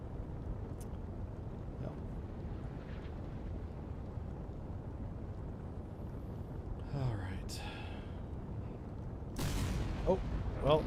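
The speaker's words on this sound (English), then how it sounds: "I hear missiles flying overhead." Missiles flying overhead and explosions in a naval combat video game, a continuous low rumble with whooshing passes and a louder blast near the end, under occasional talk.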